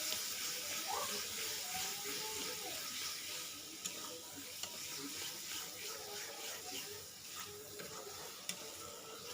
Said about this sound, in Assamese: এতিয়া মই এইখিনি ভালদৰে মিক্স কৰি ভাজি ল'ম